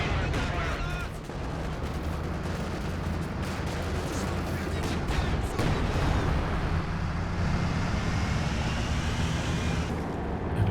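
A 152 mm artillery piece firing high-explosive rounds in the World War II strategy game Company of Heroes 2: loud booms and crackling impacts over a steady rumble of battle noise, with occasional sharper shots mixed into a continuous din.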